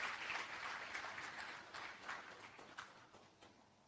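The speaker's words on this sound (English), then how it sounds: "We can welcome him with a clap." Faint applause from a conference audience at Strathmore University in Nairobi, welcoming a speaker to the stage; steady, distant clapping with a few sharper claps standing out, fading slightly toward the end.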